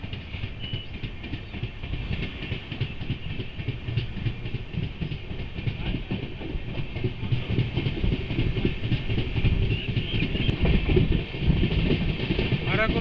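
A passenger train pulling out of Arakkonam Junction, a steady rumbling roll with dense clickety-clack of wheels on rail joints, growing slightly louder as it gathers speed, with a faint high whine above and no talk.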